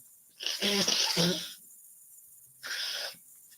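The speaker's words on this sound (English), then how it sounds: "I gotta blow my nose" Two bursts of forceful nasal blowing, the first longer and rougher, the second shorter after a pause, close and fairly loud.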